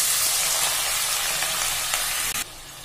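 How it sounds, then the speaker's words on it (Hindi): Finely chopped onions sizzling in hot oil with bay leaves over a medium flame, a steady close hiss and crackle that drops off sharply near the end. "प्याज को 1 से 2 मिनट के लिए मीडियम फ्लेम पे अच्छे से भून लेंगे"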